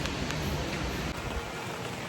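Heavy rain pouring down, a steady dense hiss of drops drumming on surfaces, loud and unbroken with no voices over it.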